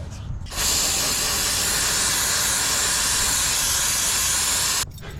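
Brake cleaner hisses in one long, loud, steady burst from an aerosol can, sprayed onto the parts of a Nissan 300ZX. The blast starts abruptly, holds at full strength for about four seconds, then cuts off sharply.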